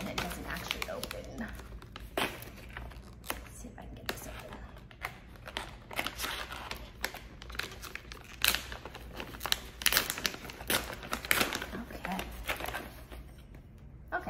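Crinkly plastic of a beef lung dog treat package being ripped and tugged open, a series of sharp rustling and tearing bursts spread over several seconds, close by, with a person talking at times.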